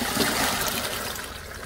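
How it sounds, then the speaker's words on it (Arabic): Water pouring off boiled eggplants as they are drained into a strainer, a steady, loud splashing trickle that runs without a break and fades slightly at the end. "هلا بدنا نصفي الباذنجانات ونحطهم بالقطر"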